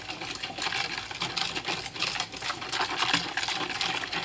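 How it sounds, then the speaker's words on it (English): A whisk beats chocolate pudding mix into milk in a bowl, giving a fast, steady swishing and rattling churn that runs without a break. "now whisk together"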